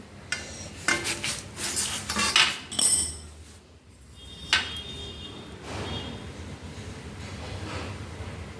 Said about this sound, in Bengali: সিমে রাখার পর এবার আমি ঢাকাটা খুলছি